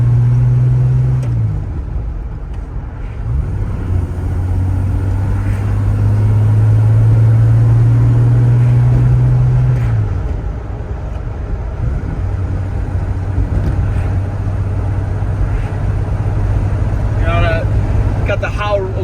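The engine of a 1963 Jaguar E-Type Series 1 coupe with tuned carburetors runs loud and close, a deep steady rumble that rises and falls with throttle blips, while someone talks over it.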